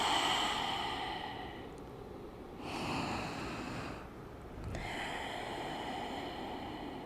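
Deep breathing in a yoga forward fold, drawn in through the nose and let out through the mouth: slow, close, airy breaths in long waves, three distinct phases with soft pauses between.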